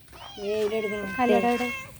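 A cat meows twice up close, with drawn-out, wavering cries that are fairly loud and clear.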